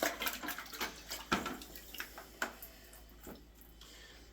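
Water splashes and trickles as a drywall taping knife is rinsed off, with small irregular sloshes and light clinks from the blade, fairly close and quiet, with no talking.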